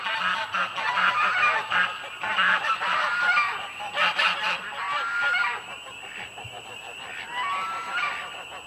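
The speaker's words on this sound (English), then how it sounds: "She was running around doing that upset quack." An upset duck running loose around a yard gives a steady stream of loud, insistent honking quacks in short repeated bursts, close by and continuing for several seconds without talk.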